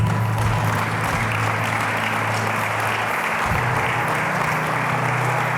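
An audience in a church applauds, a dense, steady wash of clapping that holds at full strength throughout.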